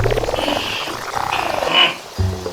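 A frog croaks close by in a rapid series of throaty, pulsing calls, loud and alone without any talk.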